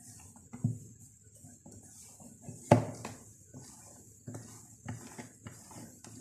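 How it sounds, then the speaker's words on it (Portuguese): A spoon stirring whipped egg whites into mascarpone cream for tiramisu in a bowl, giving soft scraping and a few light clinks against the dish, close and quiet, with one sharper knock. "eu não vou mais bater com a batedeira, eu vou mexer mesmo com uma colher"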